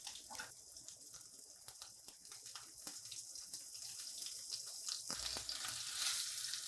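Pecan crusted white fish searing in oil with fresh thyme in a pan, a soft continuous sizzle and crackle at low volume that grows a little denser toward the end.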